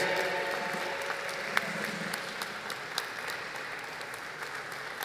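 Steady applause from a crowd at a cruise terminal commissioning ceremony, a dense wash of clapping that holds at an even level, with a few sharper individual claps standing out.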